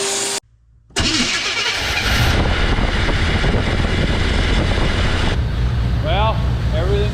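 A wrecker truck with EFI cranks briefly, falls nearly silent, then fires and settles into a loud, steady, close idle rumble.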